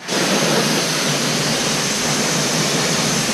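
A garden hose blasts water into a car's wheel wells to rinse off debris and heavy deposits, making a loud, steady hiss of spray that stays constant throughout.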